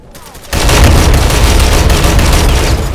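A grenade explodes in the online shooter Ghost Recon Online: a sudden loud boom after a quiet half-second, followed by a long rumbling roar that slowly fades.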